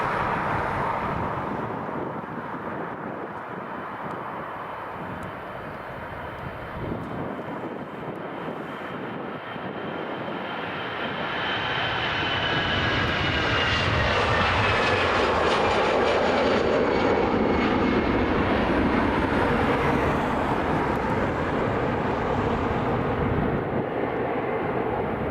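A fixed-wing airliner roars as it takes off at Dublin Airport, with the engine noise building from a steady rumble into a loud, sustained jet roar carrying a whining high edge. Wind buffets the microphone throughout.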